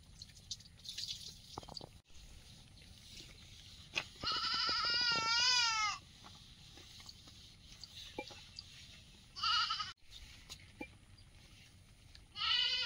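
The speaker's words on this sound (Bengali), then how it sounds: "তোমার ছাগল ডাকছে বারবার যে" A goat bleats several times in wavering, nasal calls, with a long cry in the middle and shorter ones later, over a quiet outdoor background.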